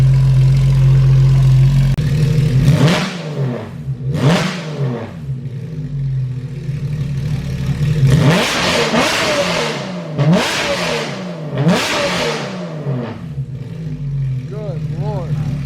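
A loud Porsche GT3 RS engine with straight-piped exhaust revs repeatedly in sharp bursts, each rising and falling, between stretches of rough idling close by.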